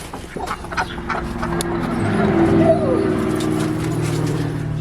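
Free-range ducks gathering at feeding time in a garden area, a flock quacking and murmuring nearby, the calls growing busier and louder after the first second.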